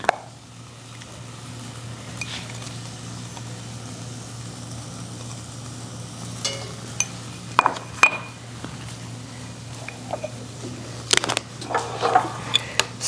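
Pasta sauce made from home-grown tomatoes being stirred into a lasagna casserole in a pot, with scattered spoon clinks and scrapes over a steady low stove hum, a few sharper knocks near the end.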